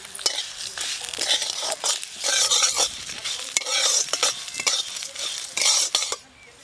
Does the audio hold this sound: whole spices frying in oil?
yes